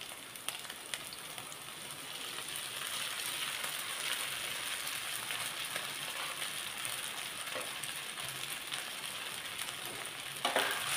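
Fried potato with sago stirred in a pan for sabudana khichdi: a quiet, even sizzle throughout with faint scrapes and clicks, and a louder clatter near the end.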